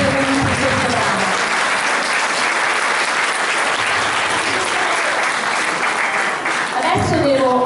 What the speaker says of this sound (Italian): un applauso ai nostri tre tromboni a tiro, Marco, Andrea e Cristiano